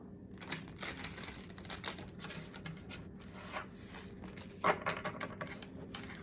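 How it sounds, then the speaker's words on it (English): Rapid riffling and flicking of playing cards being shuffled, a dense papery patter up close with a few sharper snaps. "One more good shuffle."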